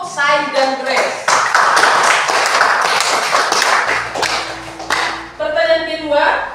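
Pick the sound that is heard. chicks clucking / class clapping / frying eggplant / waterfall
class clapping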